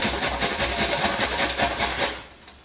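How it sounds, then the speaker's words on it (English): A carrot is rubbed rapidly against a grater in a quick, even rhythm of rasping strokes, close and fairly loud, slowing and fading out near the end, with no one talking. "You're gonna grate your carrot."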